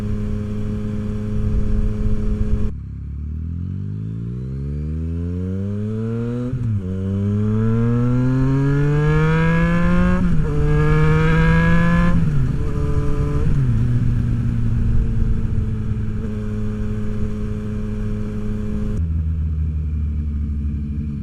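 A Yamaha FJ-09 motorcycle with a flashed ECU revs and accelerates on the road. The close, loud engine note climbs in pitch through several gears, each shift marked by a brief drop, before settling into a steady cruise.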